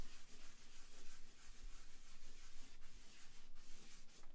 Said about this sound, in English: So I'm just lightly rubbing at this wall here, maybe in some circles.